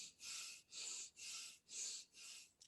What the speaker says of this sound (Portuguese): Estou correndo, respirando por aqui,